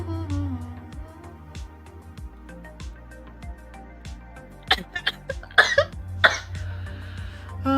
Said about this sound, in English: Yes, this cough is really bad.